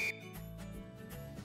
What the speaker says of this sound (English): whistle loud and moderate length